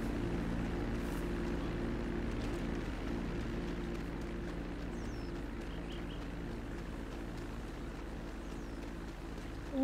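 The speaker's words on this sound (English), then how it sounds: "There's a plane there." A propeller plane flies around a farm area in the video game GTA V, a steady droning hum of the engine held at a constant, moderate distance throughout.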